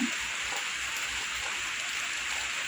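Rain falls steadily in a rural paddy-field area before dawn, a dense, even hiss of drops on surfaces with no pauses and no voices.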